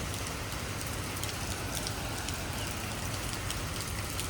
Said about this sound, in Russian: льет дождь